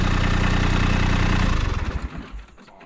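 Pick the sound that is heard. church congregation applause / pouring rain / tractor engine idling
tractor engine idling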